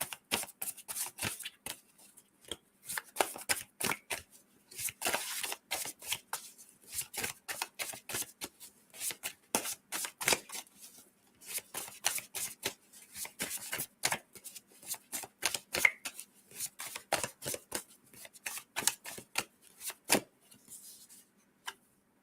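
A deck of oracle cards being shuffled by hand, with quick papery riffles and taps repeating in irregular bursts close by throughout, no speech.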